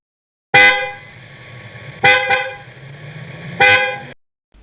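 Three loud car horn honks, the second a quick double toot, each held for under a second with short gaps between.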